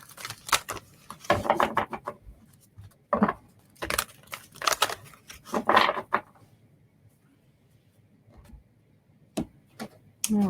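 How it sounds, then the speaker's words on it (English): A deck of oracle cards, the Mystical Shaman deck, being shuffled by hand: irregular bursts of crisp riffling and slapping, some quick flurries and single snaps, separated by quiet pauses, close up with no speech. "So I'm going to shuffle for just a second."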